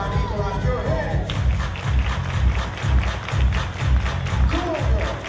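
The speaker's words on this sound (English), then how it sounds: "Everybody clap your hands." At a Harlem Wizards versus Wareham Warriors exhibition basketball game, the audience claps hands in a steady, rhythmic beat, loud and close, with a voice talking over the claps.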